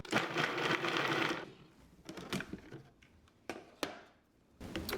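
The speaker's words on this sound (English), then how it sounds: "So I'm going to put them in the food processor, and I'm going to start with those" A food processor chopping carrots whirs loudly for over a second, then stops, followed by scattered clicks, knocks and short bursts of the blade before a final whir at the end.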